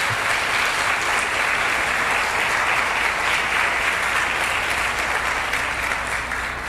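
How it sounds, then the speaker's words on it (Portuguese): A church congregation applauds steadily and loudly, a dense sustained wash of many hands clapping throughout with no break. "Vamos aplaudir a palavra do Senhor."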